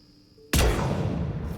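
A single loud, sharp gunshot in Mass Effect 3 bursts in after a quiet moment, followed by a long booming echo that lingers and slowly decays.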